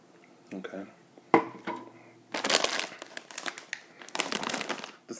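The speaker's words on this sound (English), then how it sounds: "The sound you hear are chips." Potato chips crunching and rustling in short, close bursts, with crinkly crackles clustered loudest toward the end, while a person speaks softly in between.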